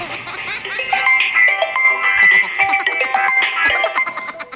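A phone ringtone plays loudly and continuously, a bright melodic sequence of repeating electronic tones, with faint voices mixed in.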